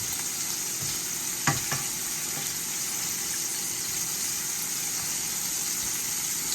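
Shrimp and scallops sizzle steadily in a frying pan, a constant bright hiss with a few soft clinks and bumps as the pieces are flipped.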